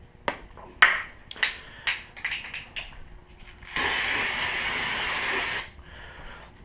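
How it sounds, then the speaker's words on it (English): Brake cleaner sprays onto the front rotor of a Mazdaspeed 3 in a sustained hiss lasting about two seconds, preceded by a few sharp clicks and handling taps nearby. "give it a shot of brake clean right now"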